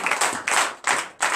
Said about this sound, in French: Que je demande au peuple de Dieu de donner de vives acclamations.